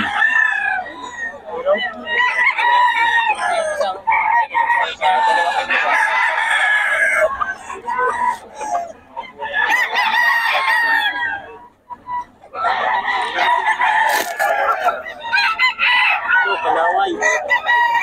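Roosters in Bocaue crow repeatedly and loudly up close, several long cock-a-doodle-doo calls overlapping in bursts with short pauses between them.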